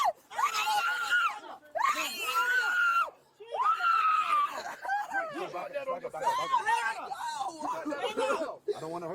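A young girl screams and cries through a meltdown during a traffic stop, with long, loud wailing bursts separated by short gasps, turning into sobbing, choked cries, while others speak nearby.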